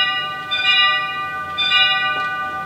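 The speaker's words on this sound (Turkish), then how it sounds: "Bir tanesi bu evin hiç değişmeyen zili." A house doorbell gives a two-tone electronic chime twice in a row, bright and ringing, with a steady sustained tone beneath and no voices.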